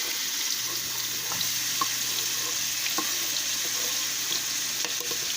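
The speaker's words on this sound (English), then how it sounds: "We're gonna let that fry like 2 minutes" Chopped onion fries in a pan with a constant, even sizzling hiss and faint occasional pops and ticks, moderately close and unaccompanied by talk.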